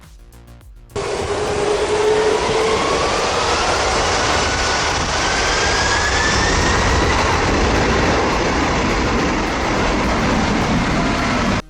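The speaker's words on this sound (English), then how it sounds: "witness the shocking view of the KLM 747 Extreme Jet Blast, blowing people away at Maho Beach" A KLM Boeing 747 blasts its jets toward the beach at Maho Beach, St. Martin. The blast starts abruptly as a loud, close roar and holds steady, with a faint rising whistle over the rumble.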